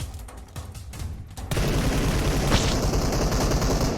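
Gunfire in the mobile battle royale game PUBG Mobile, starting with quieter scattered shots, then erupting into loud, sustained bursts of rapid fire close by.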